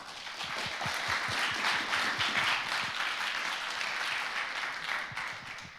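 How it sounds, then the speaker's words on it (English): Sustained audience applause for panelists at an afternoon conference session, a dense, even roar of many hands clapping at steady loudness throughout. "Just a round of applause for our panelists."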